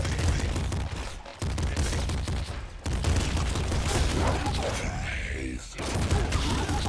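Shotgun blasts and machine-gun bursts in the video game Nuclear Throne, loud, dense and overlapping, with a couple of brief pauses between volleys.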